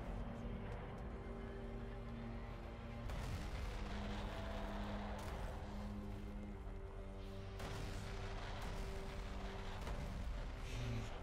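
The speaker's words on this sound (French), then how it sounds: "les explosions dans ce jeu ont toujours été magnifiques" Explosions go off in the real-time strategy game Homeworld: Deserts of Kharak. Deep booming bursts hit around the third and eighth seconds over a steady mechanical hum, fairly quiet overall, with no talking.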